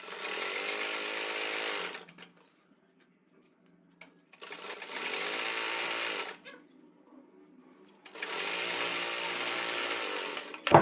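Sewing machine stitching fine pintucks on a garment neck design, running in three steady bursts of fast rhythmic whirring separated by quiet pauses, close and moderately loud with no talk.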